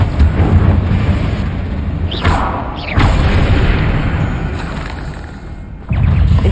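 A Confringo fire spell from Hogwarts Legacy bursts in a deep booming blast, followed by further rumbling impacts and a sharp whooshing burst, loud and close over a dense roaring battle ambience with no voices.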